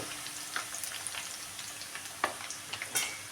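Chicken pieces frying in a pan for chicken pickle give a faint, steady sizzle broken by sharp crackles and spatters from stirring, with no voices.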